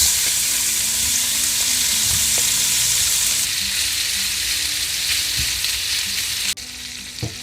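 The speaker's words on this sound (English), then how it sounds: "I've got some butter in the pan. Oh, I gotta lower the heat. Hoo-hoo-hoo. Let's add in the steak." Steak sizzling loudly in butter in a hot frying pan, a dense continuous hiss close up with a few faint knocks, and the sizzle drops back suddenly near the end; no talk.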